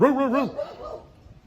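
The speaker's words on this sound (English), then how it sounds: "Hearing those dogs, that's okay." A dog barks and yips a few times nearby, a quick rising-falling burst that fades into quieter background noise.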